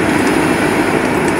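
A Koleje Wielkopolskie passenger train pulls away at a Poznań station, a loud steady rumble of engine and rolling wagons close by, with no voices.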